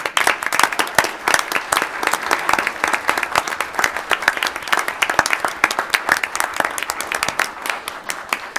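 Audience applauding and cheering for elementary art teachers at a school board meeting, dense steady clapping from a crowd that holds for the whole stretch without pause.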